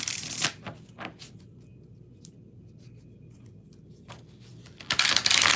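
Tarot cards being shuffled up close in a quiet room, several crisp riffling bursts separated by short pauses, with a louder rush of shuffling at the end.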